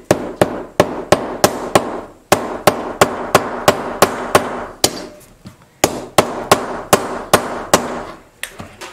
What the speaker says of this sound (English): This is a plastic hammer,